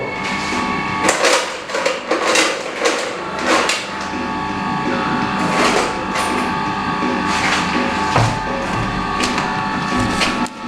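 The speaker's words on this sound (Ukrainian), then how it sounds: "Зараз візьму шайбу, зажму гайку." Nut and washer being tightened onto the roller of a grinder, giving a series of close metallic clicks, clanks and scraping handling knocks at an irregular pace, with no speech.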